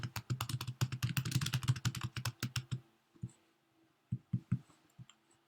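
Rapid typing on a computer keyboard, a dense close run of clicks that stops, followed by a few scattered keystrokes after a short pause.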